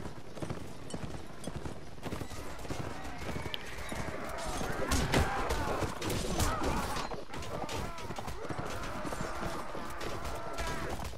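Horse hooves gallop in the medieval combat game Mount & Blade: Warband, a dense, continuous clatter mixed with battle noise, swelling louder midway.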